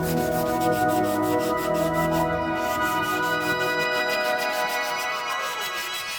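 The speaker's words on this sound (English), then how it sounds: "I sanded everything smooth using a 320 grit sanding sponge" A 320 grit sanding sponge rubs steadily back and forth across kitchen kick plates, a close, even scratchy rasp with a regular stroke rhythm and no voices.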